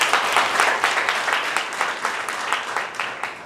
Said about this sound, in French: J'aimerais qu'on puisse applaudir pour monsieur le recteur.